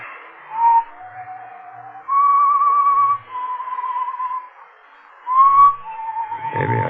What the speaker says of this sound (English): But I heard that whistling again. That same tune.